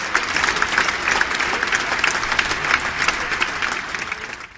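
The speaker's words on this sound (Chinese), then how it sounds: "掌声欢迎书艺！" Steady audience applause fills a theatre for a magician's entrance at a Lunar New Year magic show, dense and continuous clapping at close range that holds for several seconds before fading out at the end.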